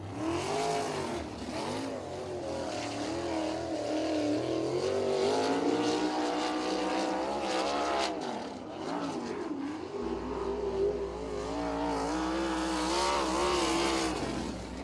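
Sprint race cars lap a USAC National Sprints race at Circle City, their engines roaring loud and continuous with rising and falling pitch as several cars pass in close succession.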